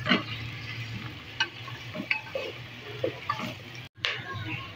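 Onions fry in oil in a pan for chicken korma, a steady soft sizzle with occasional scrape and stir clicks of a spoon, moderately close.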